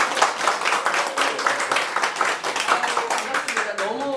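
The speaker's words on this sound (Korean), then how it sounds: "우리 선생님 뜨거운 박수 보내겠습니다" An audience at a cruise information session claps warmly for the tour guide, producing dense, continuous applause up close, with a voice emerging faintly at the very end.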